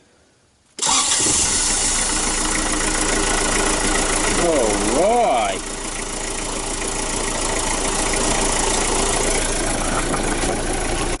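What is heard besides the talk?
car engine starting and idling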